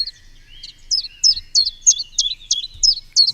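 A recorded chaffinch sings a quiet, high-pitched song, a run of about a dozen quick descending chirps repeated in a steady rhythm, heard alone with a faint low rumble underneath.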